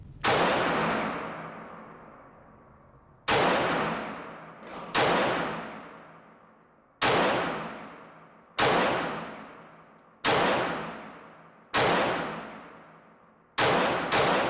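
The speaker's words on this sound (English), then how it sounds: "now let's just see how this gun performs at the range" Taurus G2C 9mm semi-automatic pistol fired at an outdoor range toward a target at 25 feet: eight sharp, loud shots spaced one to two seconds apart, each cracking hard and then ringing out in a long decaying echo.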